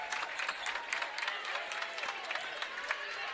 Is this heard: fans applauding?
yes